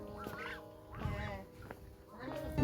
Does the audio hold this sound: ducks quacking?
yes